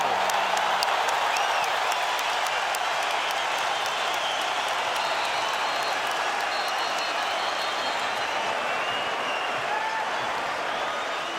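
Arena crowd of 12,500 at a professional boxing match applauding after a round, a broad, sustained wave of clapping mixed with distant cheers and whoops, steady and somewhat far off.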